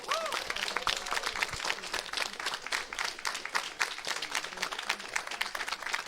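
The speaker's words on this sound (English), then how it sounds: "a quick round of applause for the entire ESA crew" A crowd at an esports event gives a quick round of applause for the ESA crew, steady dense clapping at moderate distance with some voices mixed in.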